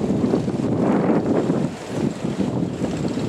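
Strong sea wind roars steadily across a bridge construction site, buffeting the microphone with a continuous, loud rushing noise and no voices.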